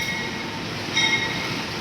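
The Kertanegara passenger train arrives at a station in Indonesia, rumbling steadily on the rails, with a faint metallic squeal of the wheels partway through. No voices are heard.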